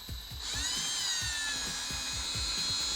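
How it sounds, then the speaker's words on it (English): A power drill whines steadily at high pitch, boring a hole down through Sculpt-a-Mold on a model train layout, with a rhythmic low chatter beneath, close and continuous. "I got my drill bit, I got it on my drill, and I'm just going for it."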